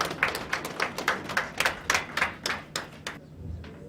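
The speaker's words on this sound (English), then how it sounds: "Please, let's give him a round of applause" A small audience at an official event in Abuja gives a round of applause, heard as a sparse run of separate, fairly close handclaps in a loose rhythm that thins out and stops after about three seconds.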